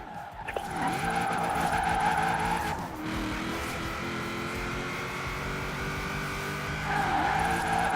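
A car in Forza Horizon 4 drifts through a corner with a sustained, wavering tire squeal over a steady engine drone, close and loud, with the squeal swelling again near the end.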